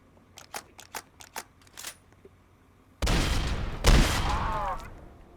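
Gunfire from a zombie shooting video game: a rapid string of sharp shots, followed by a loud, dense burst of blasts and chaotic game noise with no speech.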